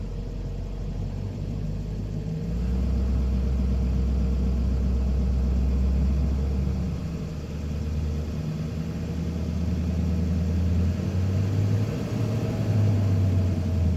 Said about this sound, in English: let's see what happens when I rev the motor